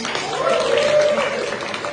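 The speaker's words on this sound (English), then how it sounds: "can we get a round of applause for my guest, Mr. Max Sterling?" Studio audience applause for a guest, Max Sterling, at the close of a comedy talk show: steady, dense clapping with a faint held tone running through the middle.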